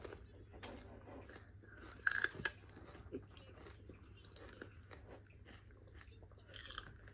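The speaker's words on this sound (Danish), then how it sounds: "Så er det tid til at tage en af de røde peber. Ja. Og så husk at tage en bid." A bite into a raw red pepper gives a short crisp crunch, followed by faint chewing over a low steady hum, with no talking.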